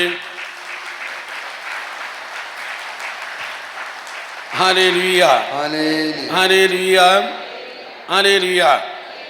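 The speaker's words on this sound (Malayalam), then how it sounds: "ഒന്ന് കൈ ഉയർത്തി കൈയടിച്ചേ" Congregation at a religious retreat clapping hands in unison, following an ambient first half of crowd murmur; the clapping arrives in several loud bursts mixed with voices singing or chanting.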